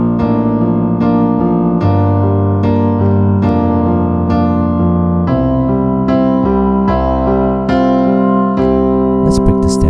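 Piano playing the pre-chorus of a song in a female vocal range accompaniment, a steady sequence of sustained chords and bass notes struck about every half second, loud and close, with no voice.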